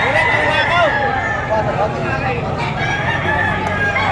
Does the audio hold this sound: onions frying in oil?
no